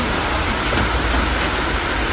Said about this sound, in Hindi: इतनी बारिश हो रही है भाई, एकदम नहीं छूट रही है।